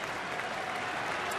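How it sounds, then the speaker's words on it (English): A baseball stadium crowd at a St. Louis at Milwaukee game claps and cheers in a dense, continuous burst of applause, close and steady for the whole moment. "Crowd getting into it."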